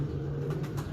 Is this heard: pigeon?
yes